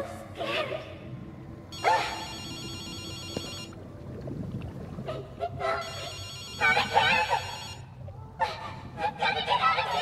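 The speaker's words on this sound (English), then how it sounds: "I'll answer the phone and see what happens." A telephone rings in Ghostwire: Tokyo, loud bursts of electronic bell trills repeating with short pauses between them, mixed with faint background game sounds.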